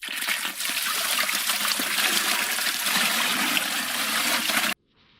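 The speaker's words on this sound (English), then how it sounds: "we carefully pour in the nutrient-rich solution" Nutrient-rich solution is poured over a coconut substrate briquette in a container, a steady, fairly loud splashing gush that runs unbroken for several seconds and then stops abruptly into near silence.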